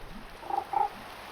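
A toad in Minecraft SevTech Ages gives two short, close croaks in quick succession over quiet background hum.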